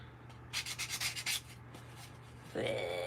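Sandpaper scuffs a craft piece for a grunge vintage finish in a quick run of about six rhythmic rubbing strokes, close and fairly quiet, followed by a brief pause.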